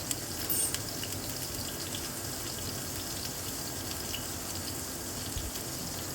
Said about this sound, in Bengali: রসুনটা একটু লাল হয়ে গেলে এবার ওতে দিয়ে দেব কুচনো পেঁয়াজ